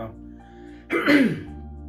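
A single throat clearing from someone recovering from flu, short and gruff, bursts out after a brief low hum, close and fairly loud.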